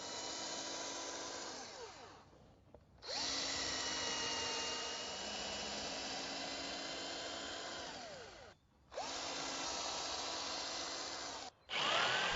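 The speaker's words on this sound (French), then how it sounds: "N'oubliez pas de visser les poteaux dans leur support." A power drill drives screws through wooden garden screen posts into their supports, whirring loudly and close in three long bursts that ramp up and wind down, separated by short silent pauses.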